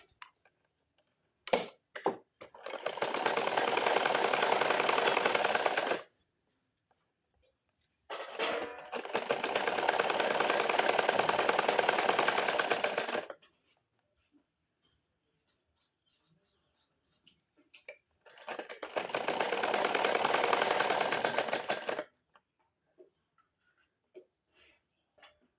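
Three bursts of a domestic sewing machine running double stitching along the sleeve of a matka gala blouse, each several seconds of rapid whirring needle clatter, separated by quiet pauses with faint handling clicks.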